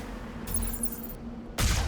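Turret gunfire in the Mass Effect video game, a low steady hum with a burst of shots in the middle and a louder crack near the end, moderately loud with no voices.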